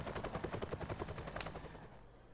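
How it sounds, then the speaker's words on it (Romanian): Helicopter in the video game Heart's Medicine, heard as a steady rapid rotor chop, loud and close, with a brief sharp burst midway before it fades out toward the end. "a venit un elicopter și a văzut"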